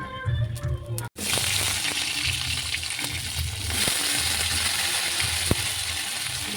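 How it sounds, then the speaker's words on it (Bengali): Oil sizzling and hissing steadily in a kadai as a home cook prepares a small-fish curry, a continuous frying crackle that starts after a brief pause and carries on with faint clinks. "কড়াই তেল দিয়ে দিচ্ছি।"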